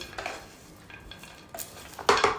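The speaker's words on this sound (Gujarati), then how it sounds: "હવે એને હળવા હાથે મિક્સ કરી લેવાના છે" Poha tossed by hand with masala and chopped coriander, soft rustling and light clinks of the flattened rice against a dish in a few short bursts, the last one loudest, with no talk.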